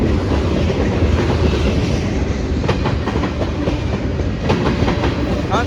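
CSX freight train rolling past close by, a loud continuous rumble of wagons with rhythmic clickety-clack of wheels over rail joints as it slows down for a meet with an oncoming Amtrak.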